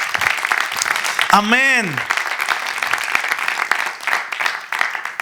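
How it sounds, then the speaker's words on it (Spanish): A church congregation gives sustained applause for several seconds, a dense, even patter. A voice briefly calls out over it partway through. "Denle un aplauso al Señor"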